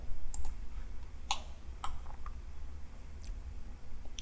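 Sharp mouse clicks from computer work in Autodesk Inventor 3D CAD modelling, a quick pair near the start and another pair a moment later, close and distinct over a low steady background hum, with no voice.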